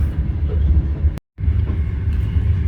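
A passenger train in Russia rumbles steadily from inside the carriage, a loud low drone that cuts out briefly to silence and then resumes.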